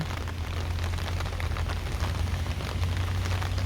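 Sudden heavy downpour on a rooftop garden, a dense continuous hiss of rain pounding surfaces with a low rumbling undertone, loud and unbroken throughout.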